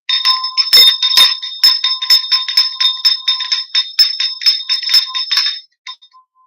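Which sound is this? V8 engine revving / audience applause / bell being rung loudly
bell being rung loudly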